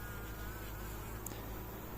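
Honeybees buzz steadily and close around a freshly marked queen bee being released back into the hive, with a dense, continuous hum and no speech.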